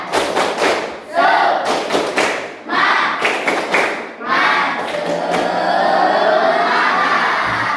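A school class does a rhythmic spirit clap in unison in a classroom, loud bursts of group claps and thumps in short sets with a shout at the end.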